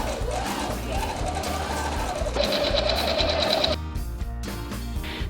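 A sewing machine stitching the neckline of a prom dress runs steadily with a whirring, rhythmic motor hum, changing pitch partway through before the stitching slows into separate mechanical clicks.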